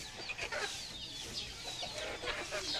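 A pair of backyard chickens clucking in short, soft, irregular bursts, faint and close together with no voices.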